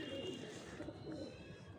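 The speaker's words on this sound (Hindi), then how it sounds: "तो देखो ऐसी कबूतरी है कुछ" A pigeon coos softly in close range, a low murmuring call held under a faint steady background.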